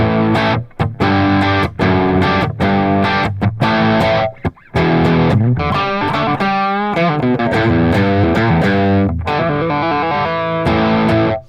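Heavily distorted electric guitar plays chugging riffs through a REVV D40 Dynamis amp with reverb and delay off, loud and close, with choppy palm-muted stabs and sustained bent notes.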